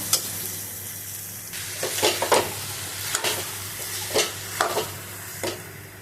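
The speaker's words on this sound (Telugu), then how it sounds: "ఇప్పుడు బటాటా వేసి కలుపుకున్నామండి" Potatoes being stirred into a frying tomato curry for chapati, with a steady sizzle underneath and several distinct scraping stir strokes at irregular intervals, close by.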